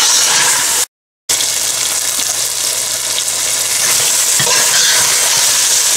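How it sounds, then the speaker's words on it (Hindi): Meat for aloo gosht being stirred and fried in a pan, a loud continuous sizzle with scraping stirring close by, cut by a brief moment of silence near the start. "इसको 5 मिनट इसी तरह भूने।"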